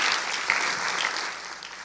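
Congregation applauding in a church service, a steady wash of clapping from many hands that holds evenly throughout.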